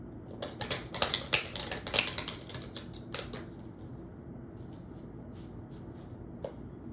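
A deck of tarot cards is shuffled by hand, with a quick run of crisp, flicking clicks that thins out into a few scattered taps against a quiet room background.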